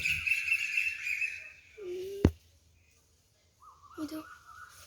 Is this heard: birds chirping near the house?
yes